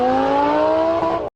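A Land Rover Defender 110 D240 SUV pulls away on a light off-road course, its engine humming steadily and close for a moment before the sound cuts off abruptly.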